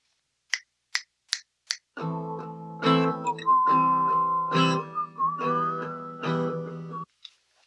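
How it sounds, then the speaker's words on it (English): Four crisp finger snaps set a beat, then a person whistles a wavering melody close into a studio microphone. The tune comes in short phrases, loud and clear, with some breathy attacks. "this is the microphone, and for some strange reason, I feel like whistling"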